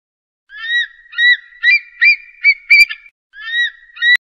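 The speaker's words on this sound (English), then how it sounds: "Eagle." A series of repeated honking bird calls, loud and close, arriving in short bursts with brief gaps between them.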